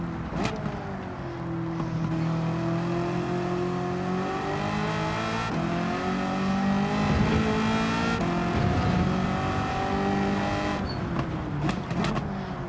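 Race car engine in Gran Turismo 7 holds a steady loud drone, rising and falling through gear changes and corners, with faint tire squeal and no talking.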